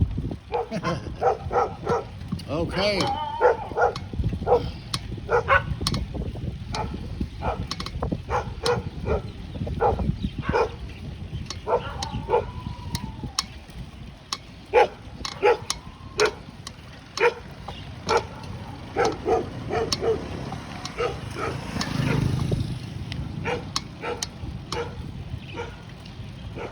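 Several dogs, scavenging leftover food scraps, bark repeatedly in sharp clustered bursts over steady low rumbling background noise, fairly near and loud throughout, with a brief spoken word.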